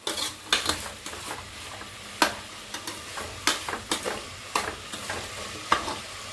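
Vegetables for a vegetable pulao frying and being stirred in a pan, with a steady soft sizzle and irregular scraping clacks of a spoon against the pot, close and fairly loud, no talking.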